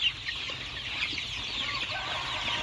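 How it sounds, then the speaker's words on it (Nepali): Month-old local chickens cluck and peep in a dense, steady chorus at a morning feeding, fairly close and continuous throughout, with no talking. "यो मेरो कुखुरा ट्याक्कै 1 महिनाको कुखुरा भयो।"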